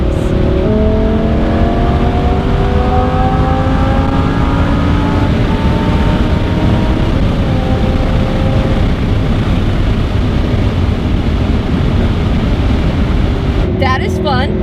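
A Lamborghini Huracan exhaust roars and burbles as the car accelerates hard through rising gears, loud and close throughout, with a voice talking over the engine.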